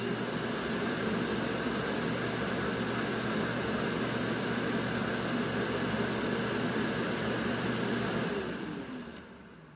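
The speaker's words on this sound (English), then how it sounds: "first up, we're gonna be using the silent dust emptying to get the quietest result possible" Narwal Flow 2 robot vacuum's dock empties dust in silent mode, a steady whooshing fan-and-suction drone that holds evenly for about eight seconds, then winds down and stops; no talking.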